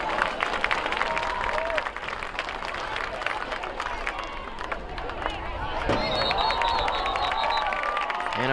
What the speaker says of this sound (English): Big round of applause for both of them,